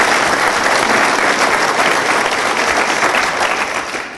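Applause from an audience at a talk on the South Carolina economy, a dense, steady wash of many hands clapping loudly and evenly, tapering slightly at the end with no voices over it.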